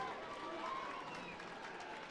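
Rugby crowd cheering as the Exeter Chiefs women's team run back out onto the field for the second half, a steady distant roar of applause and voices under faint commentary.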